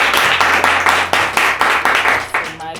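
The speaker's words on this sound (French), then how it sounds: "Ah, ça mérite un applaudissement." Rhythmic clapping from a group at a wedding, steady and fairly loud, with festive voices mixed underneath throughout.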